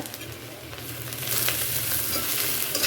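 Browned onion, a few pieces of green chilli, turmeric and cumin powder fry in a pan with a steady close sizzle and occasional stirring, growing slightly louder partway through.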